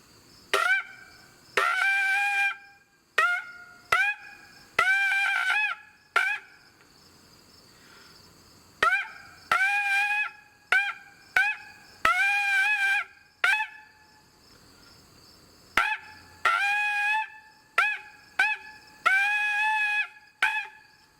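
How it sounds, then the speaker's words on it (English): A forester's hunting horn sounds a phrase of short and sustained brassy blasts, repeated three times with pauses between, loud and alone. "So we're going to repeat that phrase 3 times, and that will create our horn call."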